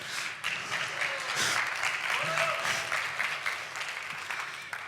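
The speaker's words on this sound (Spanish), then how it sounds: "Aplauso para vosotros, la verdad." Audience applause at an evening malware-development talk, a steady broadband clapping wash held for about five seconds with a few faint voices underneath.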